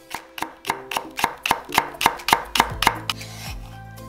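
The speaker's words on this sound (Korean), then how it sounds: "세파 약간도 얇게 슬라이스해서" A knife thinly slicing green onion on a cutting board while preparing spicy braised tofu, giving about ten crisp, evenly spaced chops in a steady rhythm, close and clear with no talking.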